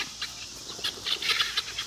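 Frightened guinea fowl on a farm give a quick run of sharp, high, scratchy calls in short bursts that come close together, fairly near and with no talking.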